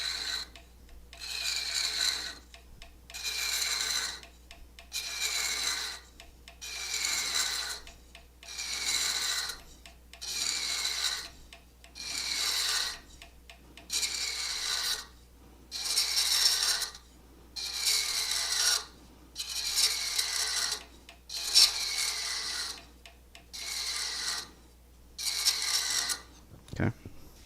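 A hand tool cutting threads into wood makes about a dozen evenly spaced rasping strokes, each a close, gritty scrape separated by short pauses.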